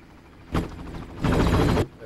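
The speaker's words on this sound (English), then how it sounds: "Where does the helicopter come from?" Helicopter in the Far Cry video game, heard as two loud broadband bursts, a short one then a longer rumbling stretch with rapid chopping texture, close and dominant.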